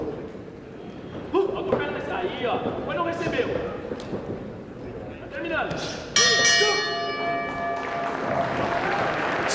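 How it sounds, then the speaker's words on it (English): A boxing round bell rings loudly, repeatedly struck over a crowd's cheers and claps at an international invitational bout, with a commentator talking throughout. "Sweeping right hook by Oliveira just before the bell"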